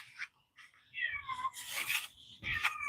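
A cat meows several times in drawn-out, insistent calls, close and fairly loud, with brief pauses between them.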